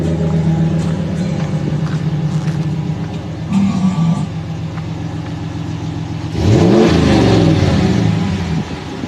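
A 2017 Ram 1500 pickup truck with an aftermarket exhaust idles with a steady low rumble, then revs hard near the end, the engine note rising and falling loudly close by.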